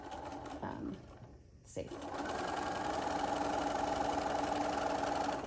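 Sewing machine stitching fabric strips for a cross stitch pillow with binding, a steady loud mechanical whir running continuously after a short pause, with a brief spoken word near the start.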